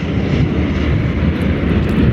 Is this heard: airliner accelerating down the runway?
yes